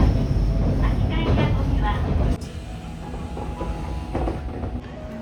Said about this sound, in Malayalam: ഇപ്പൊ ഷാർപ്പ് ട്രെയിൻ ഇസ് കമ്മിങ്